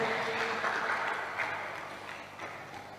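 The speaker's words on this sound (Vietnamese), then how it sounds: "Tự cho mình một tràng pháo tay để thấy rằng mình đang hạnh phúc" Applause from a seated audience at a Buddhist monastery talk in Vietnam, steady dense clapping that starts fairly full and slowly thins and fades over three seconds, with no voices.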